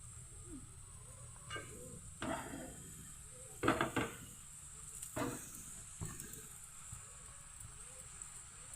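Food frying in hot oil in a home kitchen, a steady soft sizzle broken by several louder scraping stirs by hand, with quiet background hiss between them.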